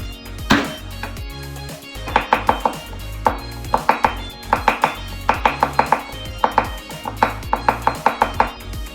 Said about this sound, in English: Now we're gonna take our red pepper and chop it into pieces